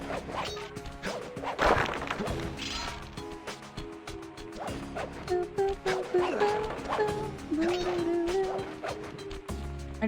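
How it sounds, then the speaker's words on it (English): Objects being smashed in the PS2 game Sly Cooper and the Thievius Raccoonus, repeated loud cracks and crashes amid game music and effects, with a player talking over them. "I just love smashing everything in this level."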